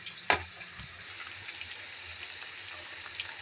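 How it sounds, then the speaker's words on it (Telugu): Paneer cubes fry in hot oil until browned, giving a steady close sizzle that opens with a sharp clatter or splash, then settles into an even crackling hiss with no talk. "పన్నీర్ ఇట్లా బ్రౌన్ కలర్ వచ్చే వరకు వేయించుకొని ఒక ప్లేట్లోకి తీసుకోవాలి"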